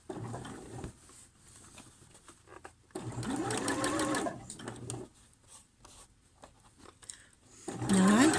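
A sewing machine stitches a sleeve seam on pyjamas in short bursts of rapid mechanical whirring separated by quiet pauses, close and moderately loud.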